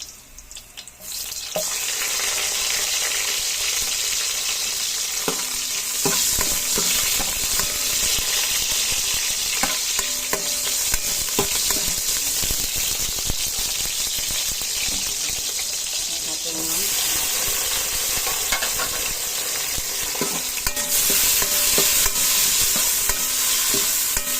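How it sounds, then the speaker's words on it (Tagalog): Garlic and onion being stirred in a pot, a continuous scraping and sizzling frying sound held steady and fairly close, with faint tapping of a utensil against the pot. "Mix natin na guys yung sibuyas."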